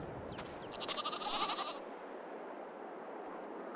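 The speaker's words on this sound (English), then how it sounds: "here we have some goats" Goats bleat in Farming Simulator, a short wavering nasal bleat standing out over a soft farmyard background, then quieter ambience.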